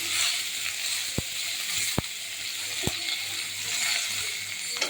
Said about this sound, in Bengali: পেঁয়াজগুলো একটু ভাজা ভাজা হবে।